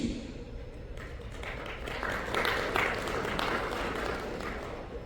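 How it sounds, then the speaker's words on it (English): Scattered, modest applause from a conference audience in Bangalore builds slightly in the middle then continues at a steady, unenthusiastic level. "That wasn't a very resounding applause."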